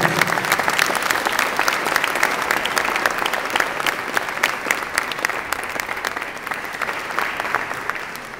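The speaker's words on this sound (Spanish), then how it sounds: "Les vamos a dar un fuerte aplauso." An audience at an award ceremony for winning municipalities gives a strong, sustained round of applause, dense steady clapping from many hands throughout, close and loud with no talk over it.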